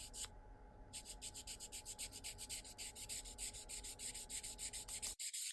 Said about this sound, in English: I can go in and sand off any excess, and it leaves such a nice smooth finish